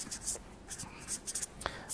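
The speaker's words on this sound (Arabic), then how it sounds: "So let me write the definition because it's very important." Marker or chalk writing a definition on a classroom board, a run of short, faint scratchy strokes in quick uneven bursts up close.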